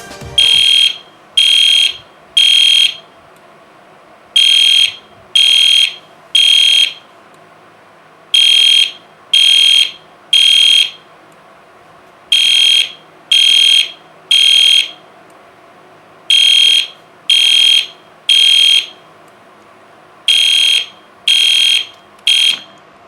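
An EST Genesis fire alarm strobe-horn set to code 3 blasts loud, piercing tones in repeating groups of three short beeps separated by pauses, cycling steadily and alone.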